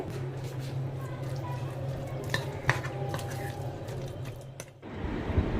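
Kofta mixture worked by hand or spoon in a bowl, a continuous close squishing and scraping with a few sharper clicks, under a low background hum.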